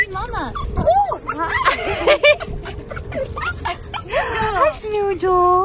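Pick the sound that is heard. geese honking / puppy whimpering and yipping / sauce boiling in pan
puppy whimpering and yipping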